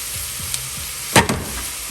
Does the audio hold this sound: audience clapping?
no